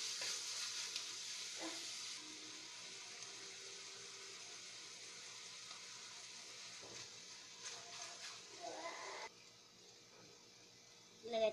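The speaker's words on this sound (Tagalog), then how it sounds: "Pag luto na yung ating sibuyas bawang, ilagay natin yung giniling." Ground meat sizzling and frying with sautéed garlic and onion in a pan, a steady broadband hiss that continues throughout, with occasional stirring clatter and a louder burst near the end.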